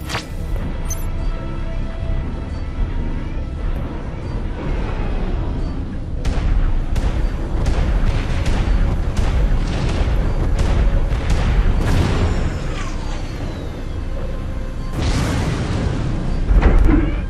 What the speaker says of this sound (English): The enemy is attacking with bombers.